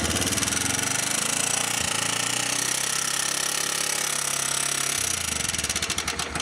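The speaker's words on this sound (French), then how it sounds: "on entend bien les culbuteurs qui claquent" A 125cc four-stroke engine runs steadily with a loud, continuous mechanical clatter of its valve rocker arms ticking over the engine drone, close and uninterrupted.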